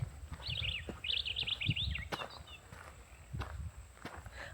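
Quick bright morning bird chirps trill in a short burst outdoors near a baobab tree in Zanzibar, with footsteps crunching along underneath and faint background noise.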